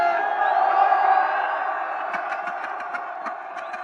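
A large festival crowd cheers and shouts for Mukombozi, a sustained, loud roar of voices with scattered whoops, later joined by a rhythm of claps or stamps.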